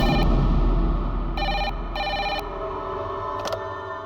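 A telephone rings in short repeated electronic bursts, three or four tones spaced about half a second apart, over steady background music.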